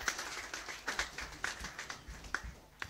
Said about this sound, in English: Can we clap again mightily for Master Jesus Christ?